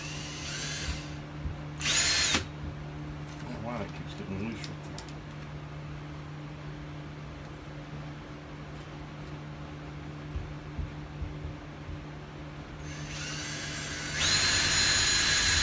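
Power drill boring a hole through roof framing for an air conditioner install, with two short loud bursts near the start and end, and quieter handling noise between them.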